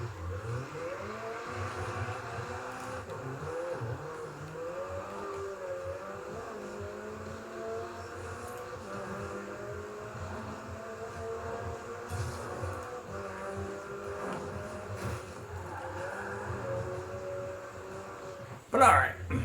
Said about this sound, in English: I just crashed my car and now I'm burning out everywhere